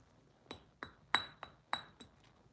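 Specialty shipping glass, a hard impact-resistant type, gives five sharp, bright clinks at an even pace, close and fairly quiet, each leaving a short ringing tone, with no talk.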